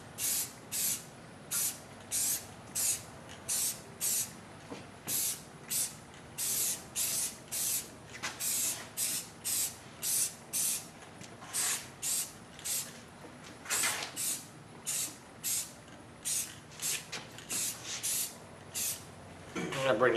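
Aerosol spray paint hisses onto wheels or hubcaps in repeated short bursts, roughly one every second, each a sharp high hiss separated by brief pauses, close and fairly loud with no one talking.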